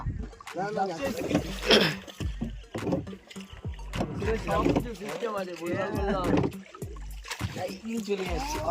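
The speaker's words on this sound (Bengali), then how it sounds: "এবার যাচ্ছে নৌকা।" A rowboat moves along a river on a fishing picnic outing, with soft water and hull sounds running under near, almost continuous talking voices.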